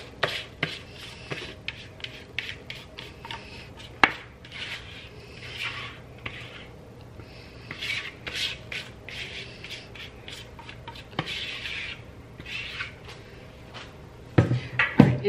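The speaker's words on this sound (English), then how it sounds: "so I'm gonna get the rest of this scraped out of here." A spatula scrapes the rest of a dessert mixture out of a bowl in a home kitchen, with repeated soft scraping strokes and occasional sharp taps against the bowl, close and steady.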